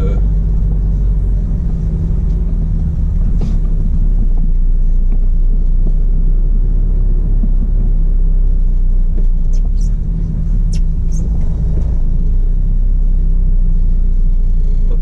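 A car engine rumbles low and steady, close by, in a rural countryside setting near a construction site, with a continuous drone and no clear revving for the whole stretch.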